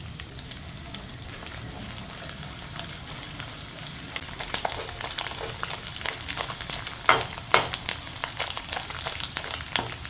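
Chopped coconut pieces frying in ghee make a soft continuous sizzle with scattered crackles and pops, plus a couple of louder clinks near the end and an occasional stir, with no voices.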